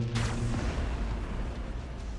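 Bombardment cannon hits in the space strategy game Battlefleet Gothic: Armada 2 land as a dense, continuous roar of heavy booms and rumbling impacts, loud and sustained throughout.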